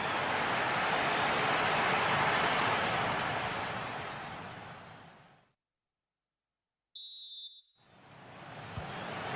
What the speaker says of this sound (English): And the whistle is sound.